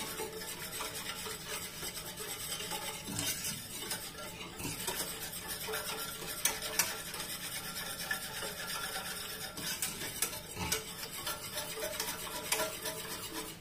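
Homemade kimchi being mixed by hand with sugar and spicy seasoning, a quiet continuous rubbing and stirring with soft wet scrapes and occasional light knocks, no talking.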